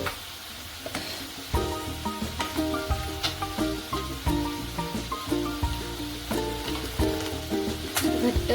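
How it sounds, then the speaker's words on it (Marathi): Vegetable soup at a rolling boil in a pot: a quick, regular run of bubbling pops and gurgles, fairly close and moderately quiet, without a break throughout. "छान उकळी आली याला"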